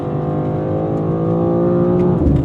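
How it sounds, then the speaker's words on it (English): A BMW M2 CS engine drones steadily and loudly at close range as its 8-speed automatic works through the gears, with the pitch shifting near the end of the run and no voices. "8-speed automatic works through the gears."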